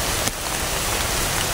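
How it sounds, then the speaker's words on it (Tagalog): Steady rain falls on a surface outdoors on a mountain, a close, dense hiss of drops with no talk and a single brief tap early on. "Ulan."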